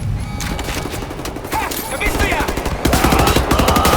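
Dual-wielded guns fire in rapid bursts during combat in Wolfenstein: The New Order, a dense, loud stream of gunfire that grows heavier toward the end, with someone talking over it.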